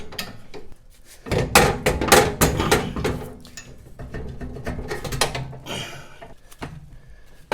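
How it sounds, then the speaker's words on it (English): Spanner working a large bolt loose on a Porsche 914 rear shock, with close, irregular metallic ratcheting clicks, knocks and scraping in uneven bursts. "Now to get this large bolt out, I'm just going to use this spanner in here"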